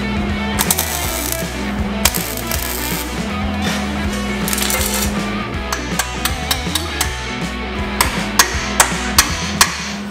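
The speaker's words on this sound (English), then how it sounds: "Now I'm tapping it with a hammer and getting it to go flush with these portions of the boxing plate." Hammer taps on a steel boxing plate being fitted to a Model A Ford frame: sharp metallic strikes, scattered at first, then a quicker run of distinct hits near the end, set against steady workshop background noise.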